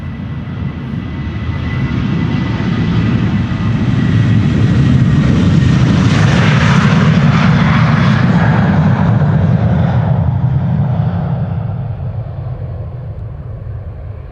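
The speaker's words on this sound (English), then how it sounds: "No, wait, that was an Embraer 175 to Brussels." An Embraer 175 jet departs Amsterdam Schiphol Airport, a loud roaring rumble that builds over a few seconds, peaks near the middle as it passes close by, then slowly fades.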